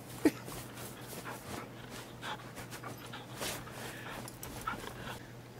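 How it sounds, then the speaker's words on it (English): A puppy in The Red Lantern video game whimpers and pants softly, a faint close sound over a low steady hum with a brief sharp peak near the start. "we can pet the puppy"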